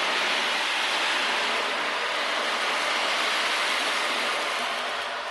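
Hundreds of small beads roll across an ocean drum in a steady, hissing wash of sound that imitates ocean surf, continuous and fairly loud with no other sound.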